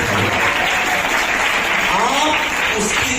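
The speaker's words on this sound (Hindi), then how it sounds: "जोरदार तालियों के साथ" Loud, dense applause from a large audience at a one-day women's conference, steady broadband clapping filling the whole stretch with a faint voice or two mixed in underneath.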